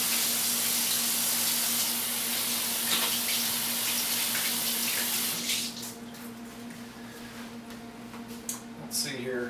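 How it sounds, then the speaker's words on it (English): Kitchen tap running steadily while hands are washed during cookie baking, a continuous close hiss of water that thins toward the end. "wash my hands every 30 seconds here"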